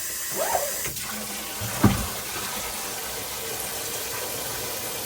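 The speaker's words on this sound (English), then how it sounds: "Put some more water on that motherfucker, dog." Garden plants in a garden house being watered with a spray, a soft continuous hiss of running water with a couple of brief splashy bursts, steady and close throughout.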